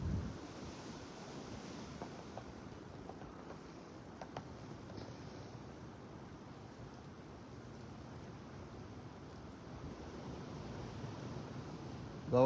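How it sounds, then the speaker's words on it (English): Wind moving through trees near Lower St. Mary's lake makes a steady, broad rushing hiss that holds at an even level for the full length with no clear gusts or breaks, and no one speaks over it. "Starting to get a little bit of wind."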